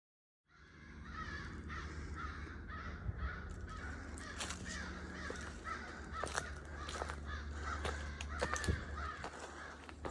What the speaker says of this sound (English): We got some very vocal birds here.